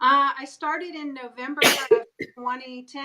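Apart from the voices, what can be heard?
sneeze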